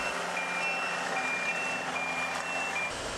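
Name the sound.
construction machines beeping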